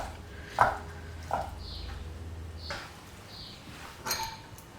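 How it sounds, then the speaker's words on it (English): A knife cutting feta cheese into smaller pieces on a board, several distinct soft chops and taps spaced irregularly, with faint clinks of utensils between them in a quiet kitchen. "And I'm cutting this in smaller pieces."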